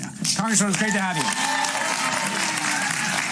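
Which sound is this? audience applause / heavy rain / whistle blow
audience applause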